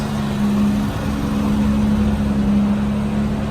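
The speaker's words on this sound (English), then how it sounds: "Exhaust sounds great." Steady idle of a restored 1964 Jaguar E-Type Series 1 3.8L roadster, its exhaust giving a continuous low drone with a firm hum throughout, close by and without talk.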